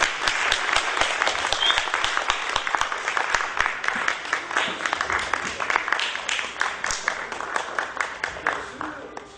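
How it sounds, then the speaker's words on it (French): Audience applause at a stage show in Côte d'Ivoire, a dense, sustained clapping from a large crowd that runs the full length, with sharp individual claps standing out and a cheer or voice faintly mixed in. "Sous un tonnerre d'applaudissements"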